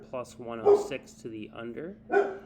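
A dog barks a couple of times in the background while someone talks steadily over it, the barks partly masked by his voice.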